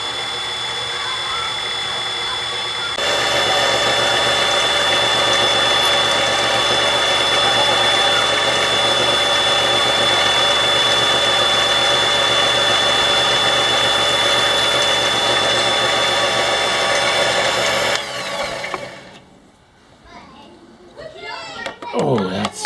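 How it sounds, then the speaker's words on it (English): A cutter grinds through a pipe part in a water system repair, a loud steady whine that holds for about fifteen seconds before abruptly stopping, followed by talk. "I don't want to hit the jaws with the cutter."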